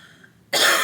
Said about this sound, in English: Literally developed this dry cough